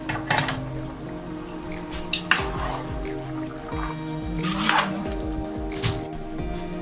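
Chicken biryani with coriander and red and green chillies is stirred in a pot, giving repeated wet squishes and sharp metal scrapes and clinks against the pot's side that continue steadily up close.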